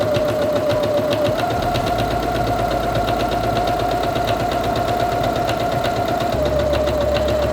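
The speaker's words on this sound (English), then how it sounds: "And release the button and continue sewing." A Quantum Stylist 9960 sewing machine stitches fabric, giving a steady close motor whine with rapid, even mechanical ticking and a slight shift in pitch partway through.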